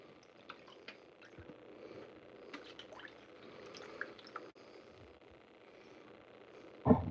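Water swirls and drips faintly in a gold pan while magnetic concentrates are panned, giving soft, scattered trickles over quiet background, then a brief louder splash right at the end.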